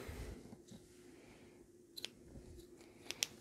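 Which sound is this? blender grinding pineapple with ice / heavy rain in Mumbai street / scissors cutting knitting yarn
scissors cutting knitting yarn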